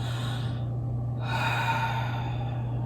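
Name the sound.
deep inhale during yoga breathing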